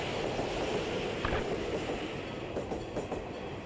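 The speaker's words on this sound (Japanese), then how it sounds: "と電車の通過音がして、" A train rolls steadily past a railroad crossing in a late-1990s Nintendo 64 TV commercial, a continuous close rumble of wheels with faint clatter throughout.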